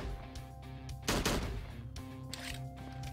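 Gunfire in the horror game Slendytubbies 3 during multiplayer, a dense burst of automatic shots about a second long, with quieter game sounds and a steady background hum around it.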